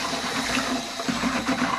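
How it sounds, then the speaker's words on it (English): Water poured into a bucket of clumpy self-leveling floor mix during a bathroom renovation, a steady close splashing gush that runs for the whole stretch with no talk. "I'm just gonna add some more water to this clumpy stuff and dump it."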